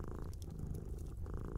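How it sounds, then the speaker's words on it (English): A cat purrs close and steady in a rhythmic, low rumble, with a brief pause in the middle before the purr resumes, and no voices. "Starting to purr again, automatically and effortlessly."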